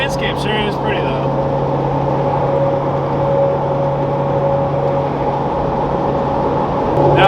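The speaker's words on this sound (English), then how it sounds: "Now I'll just sit here for the next 40 minutes and listen to my tires" Steady low tire roar and road rumble heard from inside a cheap old car driving across the desert, a constant drone with a faint tonal hum, briefly joined by voices at the start and end.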